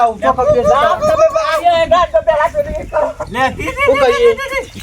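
A dog barks repeatedly amid a busy mix of people talking nearby, the barks and voices overlapping throughout.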